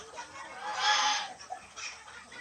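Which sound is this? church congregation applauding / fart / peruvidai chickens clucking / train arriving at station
peruvidai chickens clucking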